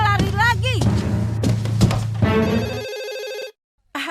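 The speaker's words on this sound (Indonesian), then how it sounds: "Ada telepon?" In a Doraemon cartoon, a telephone rings with a sustained bright electronic trill after cartoon voices, thumps and a whoosh, then cuts to silence before a brief sound returns.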